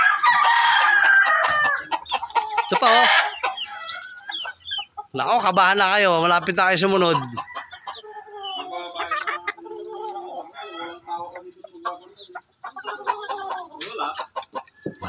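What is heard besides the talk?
chickens clucking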